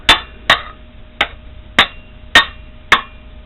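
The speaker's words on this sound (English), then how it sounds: "when you tap on it, you could actually find out where the crack is by listening to it." A metal lawn mower engine part, repaired with JB Weld, is tapped six times at an even pace to check for a crack. Each tap is a sharp, close strike that rings briefly before fading.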